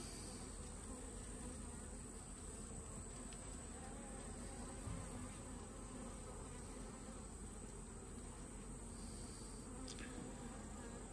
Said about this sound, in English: I'm looking at the bees, looking for their wings, looking to see if they're healthy.